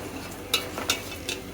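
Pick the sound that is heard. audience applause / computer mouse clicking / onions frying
onions frying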